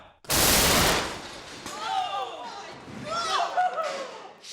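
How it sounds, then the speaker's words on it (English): A homemade steel cannon fires a real grappling hook and kicks itself off a table: one loud, sharp blast with a long roaring tail, followed by excited voices shouting and talking. "The cannon launched the hook all right. It also launched itself clean off the table."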